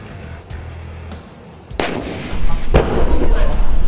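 A tank's main cannon fires during the Army Games tank biathlon, with a sharp, loud blast followed by a second report and a rumbling, echoing roll out in the open. A voice is heard faintly underneath.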